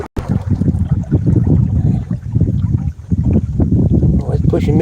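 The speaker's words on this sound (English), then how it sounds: "Whew, see that wind?" Wind rushes steadily across an open lake around a kayak, with water lapping and gusts buffeting the microphone, beneath someone talking throughout.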